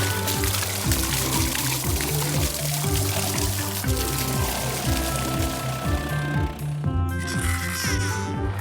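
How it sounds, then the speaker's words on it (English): Blue cement pours into foundation holes in a children's cartoon about colored construction vehicles, a soft steady gush carried under continuous cheerful background music. "Let's pour some blue cement in here."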